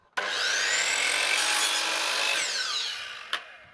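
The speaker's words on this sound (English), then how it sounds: "cut a mitre on one end of our skirting." A saw cuts a mitre through wooden skirting board, a steady loud whining cut of about three seconds that starts abruptly and winds down, ending with a sharp knock.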